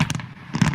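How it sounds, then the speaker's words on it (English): Quick fireworks bursts crackle and pop, a couple of sharp explosions close together. "Did they blow up all the fireworks on the bottom already?"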